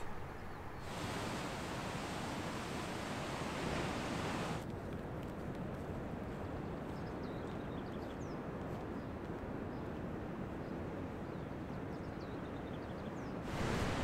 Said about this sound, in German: Und das ganze Jahr kommen hier Wellen rein, also irgendwie perfekt für Surfer.